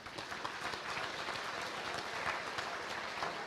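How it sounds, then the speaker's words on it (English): Steady applause from an audience at the 2019 Kansas FFA state contest results ceremony, honoring the winners; a sustained, even wash of many hands, fairly soft and distant, with no talking. "Let's give these folks a big round of applause."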